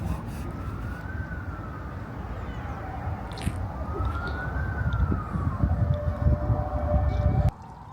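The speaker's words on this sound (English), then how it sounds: "If you can ignore the sound of the sirens in the distance" Sirens wail in the distance in Wrocław, Poland, their rising and falling tones sweeping slowly over a steady bed of city street noise, moderately loud and unbroken until an abrupt drop near the end.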